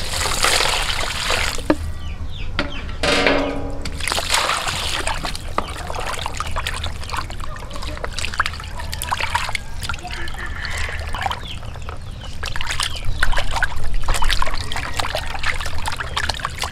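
Tap water trickles and splashes steadily while raw chicken wings are rinsed outdoors for chicken lollipops, with a brief louder gush partway through and a voice talking over it.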